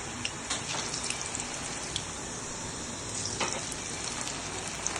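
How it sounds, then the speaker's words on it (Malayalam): Crispy potato-chicken balls deep-fry in hot oil, a continuous soft bubbling hiss dotted with faint crackles that holds steady throughout, with no one talking. "ഇനി നമുക്കിത് ചൂട് എണ്ണയിലോട്ടിട്ട് നന്നായിട്ടൊന്ന് ഫ്രൈ ചെയ്തെടുക്കാം"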